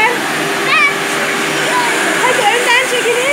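A toy Bosch vacuum cleaner whirs steadily indoors throughout, with a voice and chatter over the motor hum.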